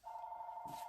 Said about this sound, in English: Sorry that my phone is ringing.